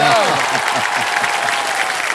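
Continuous studio audience clapping for Shankar Mahadevan on the KBC game show set, broad and even throughout, with someone briefly speaking over the applause.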